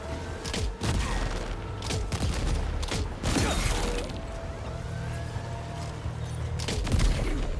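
Gunfire in a Metal Gear video game aimed at a ship's top deck, loud repeated bursts with shattering and explosive hits spread across the clip, no talk.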